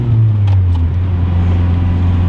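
A manual Eclipse car engine drones steadily and loudly while driving, its deep, even hum holding for the whole stretch with no voices.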